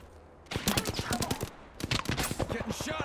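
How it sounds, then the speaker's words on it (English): Two dense bursts of rapid automatic gunfire in the Apex Legends video game, loud and close, separated by a brief pause. "Getting shot at."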